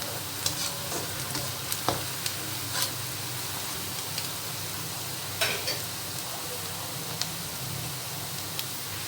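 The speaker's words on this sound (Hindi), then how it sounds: "आप ये देख लें, फ्राई कर लें इसको थोड़ा सा और। प्याज ऑलमोस्ट हो चुकी है।" Onions and mutton frying in a karahi for mutton tikka karahi, a steady close sizzle with occasional sharp crackles and spatter pops throughout, no voices.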